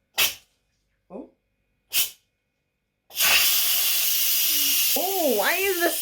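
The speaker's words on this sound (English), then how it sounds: "It's releasing the pressure because it's a pressure cooker." An Instant Pot pressure cooker vents steam in a loud, continuous hiss that starts abruptly after a few short bursts, with a voice speaking over the end of the release.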